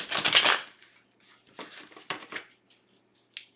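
A tarot card deck being shuffled: a loud crisp riffle of cards up close, then several shorter, quieter rustling bursts and a faint final flick.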